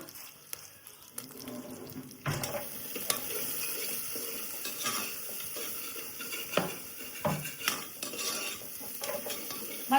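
Ghee sizzles steadily in a pan on a home stove while a utensil scrapes and stirs, with intermittent metallic clinks over a constant fry hiss.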